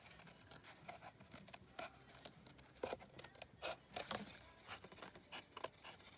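Scissors snipping card stock along a middle score line, a run of quick, faint crisp cuts and rustles of paper in an uneven rhythm, close and quiet.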